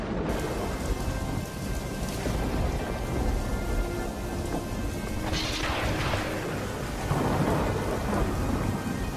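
Heavy rain pours steadily and loudly, with rolls of thunder swelling and fading through the downpour and no voices.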